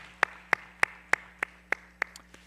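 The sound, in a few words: congregation applause of thanks and glory to God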